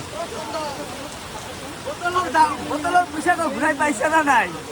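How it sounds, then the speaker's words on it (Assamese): Heavy rain falls steadily outside during a wait on an Amarnath Yatra trip, a continuous wash of noise with people talking over it for most of the stretch. "বাহিৰত বৰষুণ চাওক কেনেকুৱা বৰষুণ"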